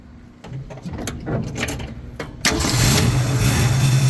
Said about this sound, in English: Oh, it started right up.